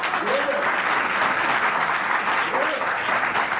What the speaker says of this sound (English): Please, again, I ask, refrain from your applause